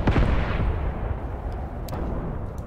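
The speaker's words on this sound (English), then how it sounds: "I think the enemy has mortars in the hills." Mortar fire in a World War II tank warfare video game set in Tunisia, 1943, with a heavy blast at the start trailing off into a long rumbling decay and a faint secondary thump later.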